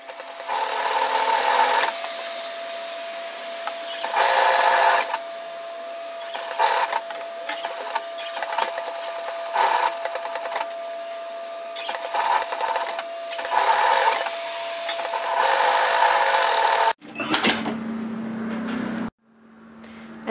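A domestic sewing machine topstitches a collar hem through an overlocked line at the centre front of a Carter shacket, whirring loudly in repeated runs with brief stops, and no voices are heard.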